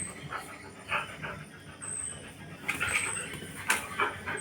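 A dog injured from being bitten by another dog whimpers and pants in short uneven bursts, with soft whining cries rising now and then, fairly close and alone.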